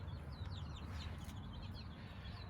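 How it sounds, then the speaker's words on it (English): Pastured egg-laying chickens cluck on a farm, soft scattered calls over a steady low rumble of outdoor noise, fairly faint and distant with no talking. "These chickens were all down in our brooder, and so we were able to get them moved up here into a chicken tractor today."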